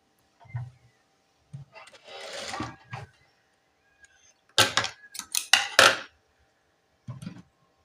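A sewing machine stitches a nurse's uniform top in short, rapid bursts of mechanical clatter, broken by pauses with brief handling and rustling noises in between.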